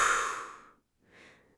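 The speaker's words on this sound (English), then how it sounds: "I take a deep breath." A long, audible exhale like a deep sigh upon waking in a warm bed, followed after a brief pause by a softer second breath, close and quiet with no talking.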